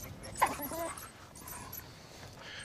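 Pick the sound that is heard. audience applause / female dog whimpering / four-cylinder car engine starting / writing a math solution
female dog whimpering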